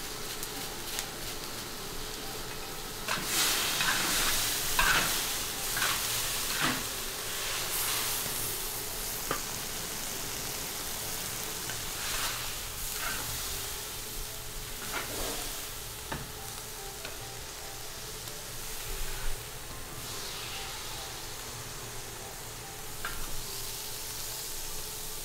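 Vegetables stir-fry in a wok for a hot and sour dish, with a steady close sizzle and frequent scraping clatters of the spatula against the metal; no one talks.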